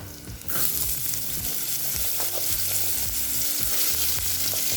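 Cut pumpkin pieces drop into a hot pan of oil for poriyal, setting off a loud, steady sizzle with stirring scrapes and clinks close by, no voices.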